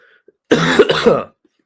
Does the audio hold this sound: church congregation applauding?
no